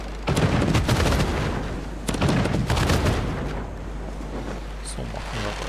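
Bursts of rapid gunfire crackle in two heavy volleys in Civilization VI, echoing and fading, with a voice speaking briefly toward the end.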